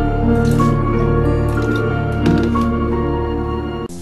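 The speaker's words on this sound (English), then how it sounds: "Trisha making a glass of water, the scene being made unintentionally hilarious by the choice of music" Water running into a glass in a horror film scene, splashing and dripping liquid heard over loud tonal music that dominates throughout, with the pour fading near the end.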